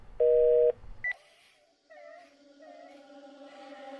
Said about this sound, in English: Busy notes blare sharply against the heavy silence.